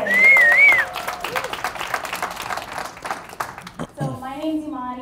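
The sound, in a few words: applause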